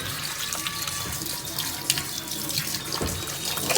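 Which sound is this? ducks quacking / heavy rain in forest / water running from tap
water running from tap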